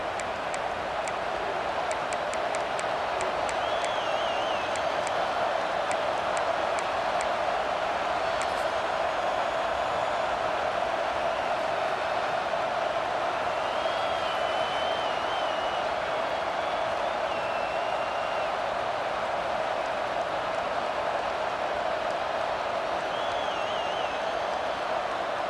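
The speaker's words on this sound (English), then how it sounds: "Here comes the noise from this big crowd in Happy Valley on third down." A big stadium crowd at Happy Valley in the video game EA Sports College Football 26 produces a continuous roar with scattered whistles and cheers, steady and broad throughout.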